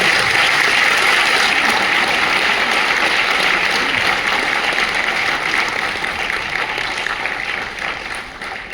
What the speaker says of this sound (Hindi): मैं चाहती हूँ आप सब लोग एक बार जोरदार ताली बजाकर उनका स्वागत करें।